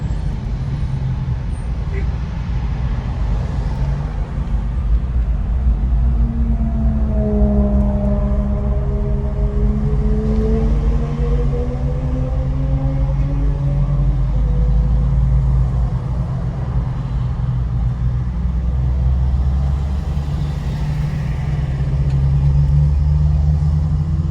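An Infiniti Q60 coupe drives along a road with a constant low rumble of tyres and road noise, and a rising-then-falling engine tone swells through the middle of the drive.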